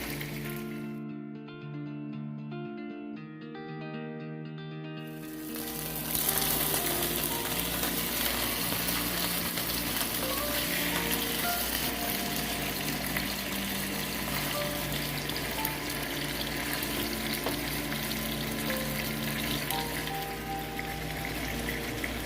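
Chicken simmers in tamarind sauce in a pan, a steady, bubbling sizzle that starts after a few seconds of quieter sound and then continues close and constant.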